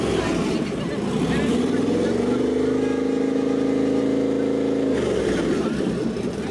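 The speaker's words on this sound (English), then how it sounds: "They got it started up, and the kids are allowed to rev it up." A parade vehicle with an open exhaust is revved by kids at a fall fair, the engine rising from idle into a loud sustained rev for a few seconds before dropping back to a rough idle, close by.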